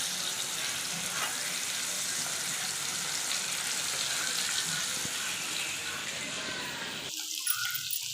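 Vanjiram fish frying in a pan, a continuous dense sizzle holding steady for several seconds before cutting off abruptly near the end.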